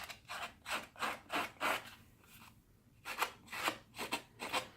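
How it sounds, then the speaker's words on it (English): Scissor blades scrape lightly along the edge of a piece of cardstock to distress it, a close, quiet series of rhythmic rasping strokes with a short pause midway. "I'm going to distress the edge anyways with my scissors. Just lightly kind of run it over the edge"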